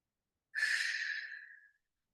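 A single long, breathy exhale during a yoga breathing exercise, soft and airy, starting abruptly and fading out over about a second, heard alone in quiet.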